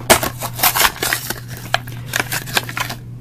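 Hot Wheels blister packs are crushed and torn open by hand, giving irregular crackling plastic crunches and snaps close to the mic, with a steady low hum underneath.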